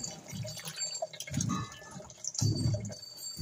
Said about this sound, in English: I add some water.